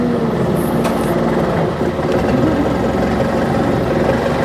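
A steady, loud boat engine drone runs throughout, a low rumbling idle with faint vibration and no voices, on a river tour boat in Sangkhla Buri, Thailand.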